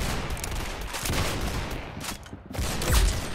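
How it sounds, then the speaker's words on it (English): Gunfire rattles in a Roblox Arsenal match, several quick bursts of shots close together with brief gaps, moderately loud over a busy game background. "Nice headshot."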